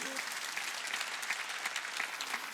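A church congregation claps together during a Sunday worship service, with steady, even applause running throughout under faint background voices.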